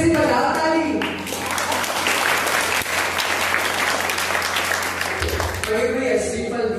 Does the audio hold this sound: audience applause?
yes